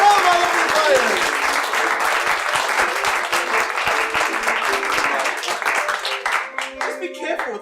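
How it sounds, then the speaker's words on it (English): A comedy festival puppet show audience breaks into loud, sustained applause that fills the room, steady dense clapping with cheering that thins toward the end. "Please give a round of applause for all my lovely players."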